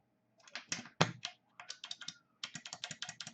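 A keyboard switch fitted with a Model M spring and keycap is typed on in quick, irregular bursts of crisp clicky keystrokes, close and fairly quiet, with one heavier bottoming-out clack.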